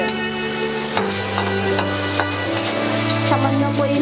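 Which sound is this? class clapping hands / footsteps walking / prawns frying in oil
prawns frying in oil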